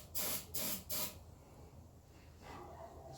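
Three quick hissing bursts of ether spray go into the carburetor of a John Deere mud mower, each about a third of a second, loud and close, then fade into a low steady background.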